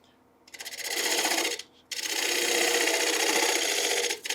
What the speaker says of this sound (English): I'm coming in on that side grain fiber. And just pulling that through that side grain.